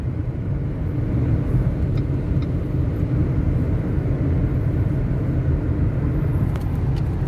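Steady low engine drone of a 2008 Toyota Altis with close to a million on the odometer, cruising in fifth gear at a stable 2000 rpm, continuous road and cabin rumble with no surging.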